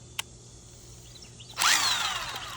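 A faulty DeWalt DCF891B cordless impact wrench, tested across its speed modes, gives a faint click, then its motor whirs up with a rising whine and runs steadily for about a second, fairly quiet and close.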